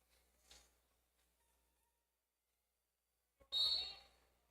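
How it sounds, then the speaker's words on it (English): A referee's whistle starts a roller derby jam at a tournament game between Boulder County Devils and Minor Turbulence. One sharp, loud blast cuts in after a near-silent stretch, with faint arena murmur beforehand. "They are off with that whistle"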